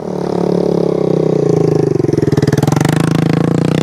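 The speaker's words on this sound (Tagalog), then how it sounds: "Uy, may motor." Motorcycle engine on a rural road through remote villages of Daram, Samar, running steadily and fairly loud and close, with a pulsing rumble that grows slightly rougher as it passes.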